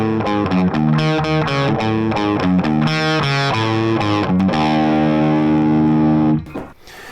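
Distorted electric guitar plays a song with delay and reverb, loud chords moving in rhythm before one long ringing chord sustains and cuts off abruptly near the end.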